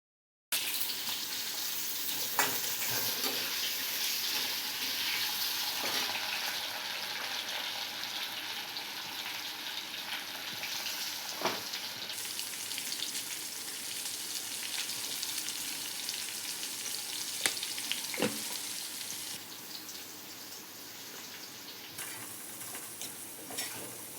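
Plantain pieces dusted with chili powder fry and get stirred in a pan, giving a steady sizzle with occasional scraping clicks of the spoon throughout, fading slightly near the end.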